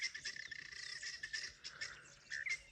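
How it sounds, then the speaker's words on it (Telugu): Wild birds call from bush in Nyangatom country, southwestern Ethiopia, with a dense, fairly faint chorus of chirps and squawks running continuously. "ఏవో పక్షులు అవి"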